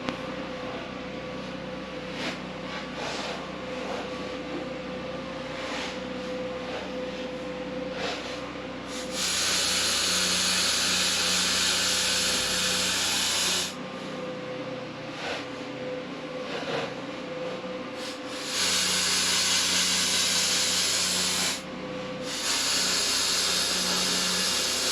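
Welding on an Ultra 4 off-road chassis build, steady buzzing hiss that runs in long stretches, pausing and restarting twice, loud and close with no talking.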